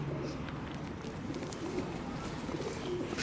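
Pigeons crowding close around a person feeding them outdoors give low, steady cooing that runs throughout under a constant background hum.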